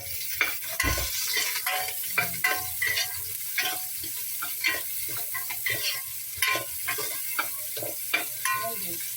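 Lemongrass sizzles in a hot pan as it is stirred, with a steady frying hiss broken by repeated scraping and clattering strokes, close and moderately loud, no talking.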